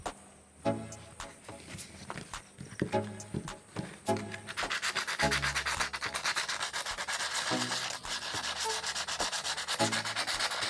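Sandpaper scrubbing rust off a pair of rusty pliers, first in short separate rasping strokes, then in a continuous, steady, loud back-and-forth scraping with no talk.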